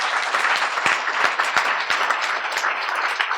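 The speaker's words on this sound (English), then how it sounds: "Give him a round of applause" Steady applause from a crowd, dense and continuous with a few sharper individual claps standing out, fairly loud throughout.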